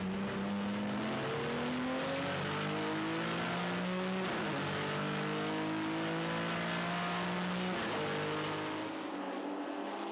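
BMW race cars in an open-class event at Hampton Downs race past together, several engines revving and shifting gears in overlapping whines that rise and fall, loud and continuous before cutting off near the end.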